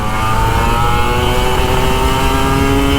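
An old Kawasaki Ninja RR 150 two-stroke motorcycle that has gone unserviced for a year, with an uncleaned carburetor, revving loud and close in a sustained buzzing roar with no talking.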